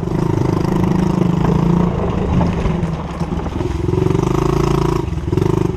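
A small pit bike engine running on a backyard trail among trees, a loud, close, steady buzzing drone with slight throttle rises and dips, no talking.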